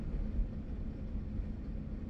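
A snow-clearing truck working on a heavily snowed street in Edmonton, heard as a steady low engine rumble with a constant broadband roar, moderately close and unbroken, with no talk.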